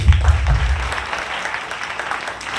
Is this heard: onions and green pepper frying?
no